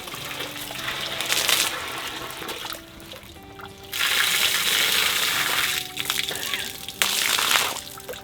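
Rainwater from a roof tank runs into a camper sink on an off-road beach trip near Esperance, a steady hissing trickle and splash that swells and drops in bursts, close by with no talking.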